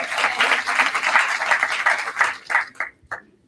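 Audience clapping at a mayoral candidate forum in Trenton, a dense burst of applause that thins into a few scattered final claps and fades out after about three seconds.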